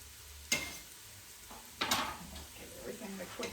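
A spoon stirs red beans and rice in a cooking pot, with a couple of sharp scraping clanks against the metal and a soft shuffle between them, fairly close.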